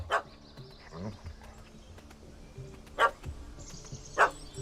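A puppy in The Witcher 3 gives a few sharp, separate barks against quiet game ambience with faint insect noise, the yaps spaced a second or more apart.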